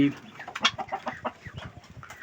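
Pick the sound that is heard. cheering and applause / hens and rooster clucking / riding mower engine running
hens and rooster clucking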